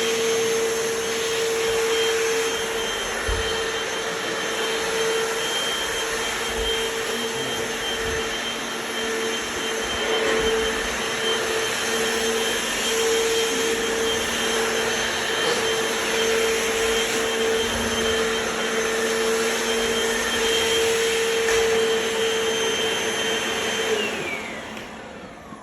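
A Hoover FloorMate Deluxe or Tineco Breeze wet floor cleaner runs in dry mode with a loud, steady whine and airy roar, holding constant for the whole stretch before easing slightly at the end.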